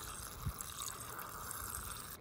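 Water trickles and pours faintly for a thirsty dog on a hike along the Appalachian Trail, a soft steady liquid sound with no talk.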